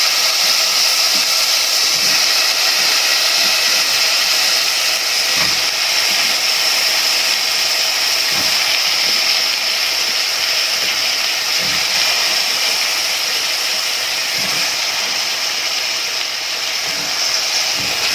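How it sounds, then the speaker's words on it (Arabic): Potatoes fry with onion in hot ghee, giving a steady loud hiss and sizzle that continues without a break, with occasional soft knocks from stirring. "اشوحها مع البصلايه. عشان تتشرب من السمنه ومن البصل."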